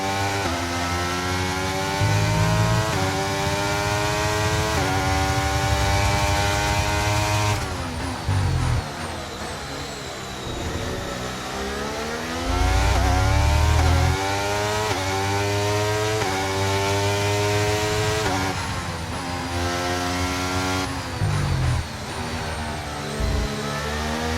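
A Formula 1 car with a strange-sounding engine fault at Portimão in F1 23: a continuous high-revving engine whine rising and falling through gear changes across a long stretch, loud and close with no talk.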